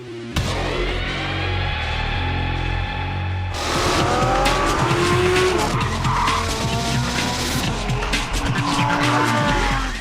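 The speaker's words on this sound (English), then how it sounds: "When you're in a Lambo on a racetrack and they tell you to go flat out, you go flat out." A Lamborghini Huracan LP580-2 screams at full throttle on a racetrack with tires squealing and skidding, engine roaring loud and close as it races through corners.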